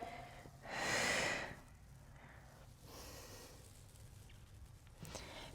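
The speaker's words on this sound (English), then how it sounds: "Exhale." A strong breathy exhale during a Pilates mat exercise, one loud close whoosh of air followed by a softer second breath, in a quiet room.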